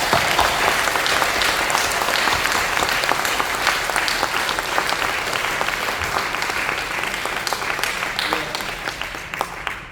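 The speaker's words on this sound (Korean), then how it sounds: "박수로 해주십시오." Sustained, dense audience applause fills a lecture hall at a church summer conference as a keynote speaker, a university president, is welcomed to the stage; steady and loud throughout with no clear talk over it.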